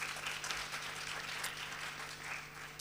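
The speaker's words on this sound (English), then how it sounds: "A round of applause for him, please." Steady applause from an audience at an arts creative summit, a dense continuous patter of clapping holding at an even level throughout, with no voices over it.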